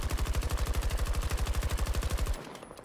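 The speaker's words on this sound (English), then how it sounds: "And then we will continue to shoot." Rapid automatic gunfire in Battlefield 2042, a steady string of closely spaced shots lasting over two seconds, loud and close, then cutting off abruptly.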